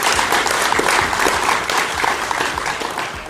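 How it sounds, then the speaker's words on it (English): Audience at a PokerStars Championship poker event in the Bahamas breaks into sustained, dense applause, loud and even throughout with no speech over it. "we want to give Daniel just a huge round of applause"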